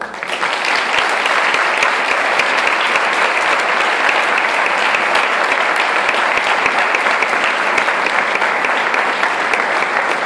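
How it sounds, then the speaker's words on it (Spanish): Loud, sustained applause from a large crowd at a folk festival, welcoming an Asturian folk dance group, steady and dense from start to finish. "Vamos a recibir con un sonoro y cariñoso aplauso a la agrupación folclórica"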